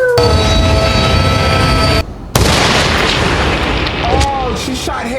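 A loud, booming gunshot from a Peaky Blinders TV episode, cutting in abruptly over a dense, rumbling soundtrack, with a voice reacting toward the end.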